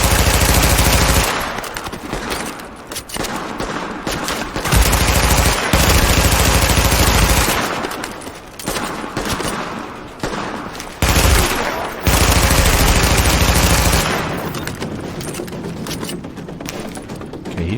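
Gunfire from a weapon in The Division, a shooter video game set in Brooklyn: loud bursts of automatic shots come in several long volleys separated by short pauses, with no talking over them.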